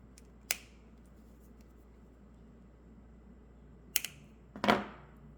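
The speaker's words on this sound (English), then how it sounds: "Then I'm going to cut my jump ring." Cutters snip a metal jewelry jump ring while making beginner earrings: three crisp, quiet clicks spaced apart, with the last a slightly longer double snap, over a faint steady room hiss.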